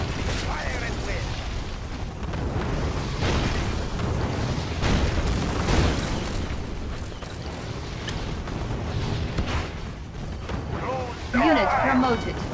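Missile launches and booming explosions in a Soviet naval mission of a real-time strategy game, with rumbling blasts recurring throughout and a synthetic unit voice-response chirping near the end.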